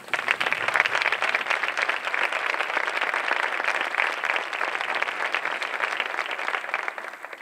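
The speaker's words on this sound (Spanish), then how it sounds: "Un aplauso para ellos." An audience at a flamenco show in Almonaster claps in loud, sustained applause that stays dense and even throughout, with no speech over it.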